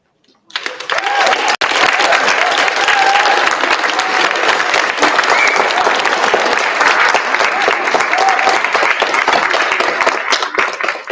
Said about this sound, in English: how about another round of applause for our keynote speakers?